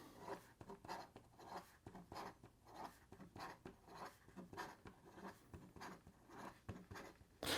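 A Namiki Nippon Art Series fountain pen writing fast on paper makes a quiet, steady scratching and rustling of nib strokes in quick rhythmic bursts, close and alone.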